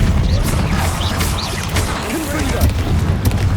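Depulso repelling spell in Hogwarts Legacy strikes with a series of booming crashes and whacks, loud and close over a steady rumbling bed, with a voice-like sound faintly mixed in.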